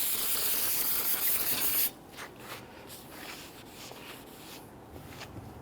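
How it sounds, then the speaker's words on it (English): A loud continuous hiss of aerosol solvent for about two seconds while cleaning a 2011-2015 Kia Sorento front wheel hub, then it cuts off, leaving quiet scraping and faint handling sounds. "So just use some spray solvent on the side"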